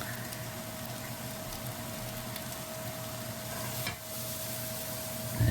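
Pepper and spring onion stir-frying in a pan for chilli paneer, a steady low sizzle with faint stirring scrapes and a thin constant hum, quiet and unbroken, no talk.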